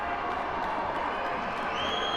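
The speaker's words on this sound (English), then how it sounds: "Band's getting loud, crowd's getting loud." A college basketball arena crowd roars steadily with a pep band playing during a free throw, loud and continuous.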